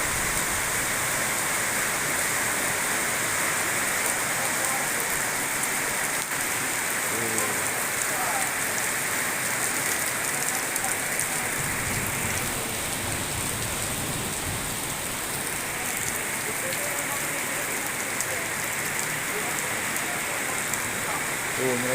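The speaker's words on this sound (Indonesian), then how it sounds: "hujan ya, sudah hangat ya" Heavy tropical rain pours steadily onto surfaces outdoors in Indonesia, a dense, continuous hiss that fills the whole stretch without letting up, with faint voices now and then beneath the downpour.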